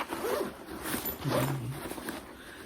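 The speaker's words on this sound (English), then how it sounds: "And I unzipped that zipper." A zipper is pulled open in a few quick, rasping strokes, close and clear, with no talking.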